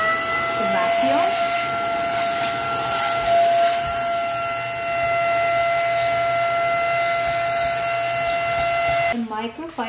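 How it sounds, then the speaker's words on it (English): A vacuum cleaner runs steadily and loud while clearing leftover grounds from a Gemilai 022 espresso grinder after grinding beans, whining with a sustained tonal hum before cutting off near the end, where a voice briefly speaks. "Use the vacuum."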